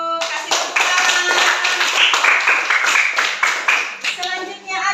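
Children in a classroom clap for a classmate during a lesson, steady rapid clapping filling the room for several seconds with voices mixed in.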